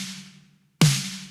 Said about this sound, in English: The first sample is this one.